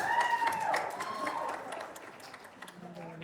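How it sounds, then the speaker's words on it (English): A crowd at a Tamil film trailer launch applauds as an actor is welcomed. The clapping is faint and dense and sits under an amplified host's voice and some music tones. "Let's welcome with a big round of applause a charming actor that everybody is nutty about."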